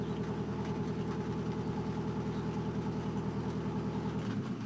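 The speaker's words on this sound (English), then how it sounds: "there is a tractor making noise outside" A tractor engine idles outside with a steady, throbbing low rumble that continues evenly throughout, heard through a wall at moderate, muffled loudness with no talk over it.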